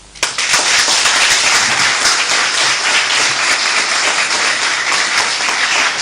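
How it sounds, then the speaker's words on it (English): Sustained applause from an audience in Ghana after a political running mate's speech, dense steady clapping that starts abruptly and holds loud throughout with no talking. "I think she deserves another round of applause"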